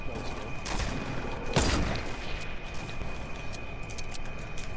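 Gunfire from a Fortnite battle royale match, a dense continuous fusillade of shots with one louder burst near the middle, steady and fairly close throughout.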